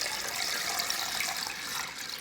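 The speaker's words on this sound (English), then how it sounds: "So I'm going to pour in the rest of this now." Raw milk pours steadily into a container, a continuous close, soft liquid splashing and trickling that stays even throughout.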